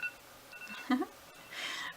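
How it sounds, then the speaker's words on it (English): Short electronic beeps from a meditation timer sound softly in a quiet room, a brief cluster of tones near the middle followed by a faint rustle. "The timer came too fast."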